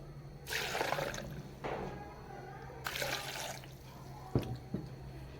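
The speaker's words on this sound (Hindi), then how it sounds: "अब हम इसमें 2 कप पानी ऐड कर देंगे।" Water pours into a mixer jar holding chopped carrots in several splashing bursts, separated by short pauses, with a few small drips near the end.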